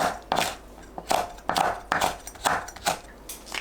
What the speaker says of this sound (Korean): 홍고추는 어슷 썰어주세요.